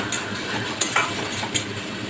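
A spatula stirs tomatoes that have been sautéing in a pan for a river fish curry: soft steady scraping and bubbling with a couple of sharp clinks against the pan, close up, with no voices.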